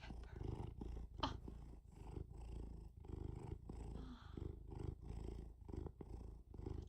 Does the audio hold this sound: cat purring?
yes